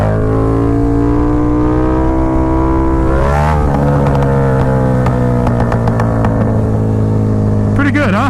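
Motorcycle engine held at steady speed and then revved hard as the rider sits back and pulls up a wheelie, loud and close with a sharp rise in pitch, steady droning before and after.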